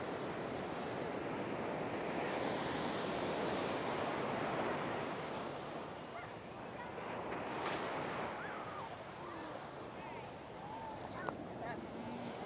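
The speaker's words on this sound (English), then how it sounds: "There's the beach right here," Ocean surf at a Santa Monica/Venice beach in California, a continuous close wash of breaking waves with wind buffeting the microphone throughout.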